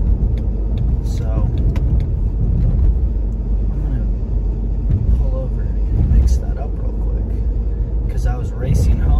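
A car drives along the road with a steady, loud engine and tyre rumble filling the cabin, while a person talks over it.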